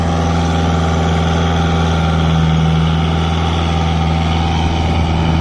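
A Kubota MU4501 4x4 tractor pulling an 11-tine cultivator drones steadily at low pitch, its engine running evenly and unstrained for the whole stretch with no pauses.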